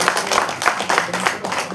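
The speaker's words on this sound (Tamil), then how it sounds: "முதல்ல அவருக்கு ஒரு பெரிய கைத்தட்டில் கொடுத்துருவோம்" Audience clapping at a movie audio and trailer launch event, a short burst of fairly close applause with distinct hand claps, no talk over it.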